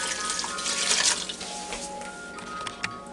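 About two cups of water pour into a Ninja Foodi pot for pot roast, a continuous close splashing rush that eases toward the end with a small clunk.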